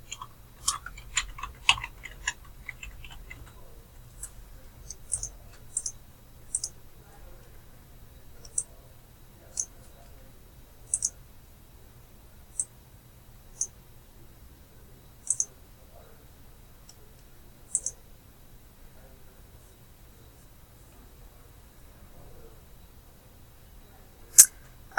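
Sparse, sharp clicks of a computer mouse, a quick cluster early on and then single clicks spaced a second or two apart, close and fairly quiet against a silent background.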